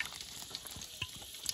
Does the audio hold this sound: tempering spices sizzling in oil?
yes